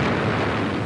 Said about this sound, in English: In the smoke of giant explosions, the Tirpitz capsizes and sinks.